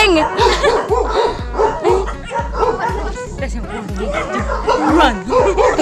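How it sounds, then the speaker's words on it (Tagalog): Several dogs bark repeatedly and loudly nearby on an outdoor walk in Sta. Maria, Bulacan, a rhythmic stream of sharp barks with yips, while people chatter over them. "Ang daming aso dito."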